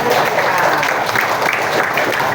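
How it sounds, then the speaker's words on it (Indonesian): A classroom of pupils claps together in dense, lively applause, steady and close for the whole stretch. "Tepuk tangan 2"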